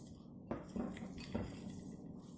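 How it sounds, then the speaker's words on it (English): A spoon stirs and crumbles a paneer filling in a bowl, making a few soft close clinks and scrapes against a quiet background. "crumble it up and mix everything"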